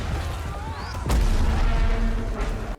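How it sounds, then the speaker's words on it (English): A single big explosion in the video game Battlefield 2042 lands with a deep, heavy boom, then a long rumbling tail over constant loud battle noise. A fainter thud follows near the end. "Okay, so there's a big explosion."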